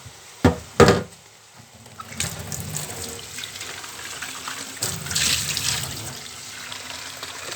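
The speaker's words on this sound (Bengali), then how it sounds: "পরিমাণ মতো জল দিয়ে দেবো।" Water is poured into a cooking pot of beef curry. Two sharp knocks come first, then a steady splash of running water that swells briefly before continuing.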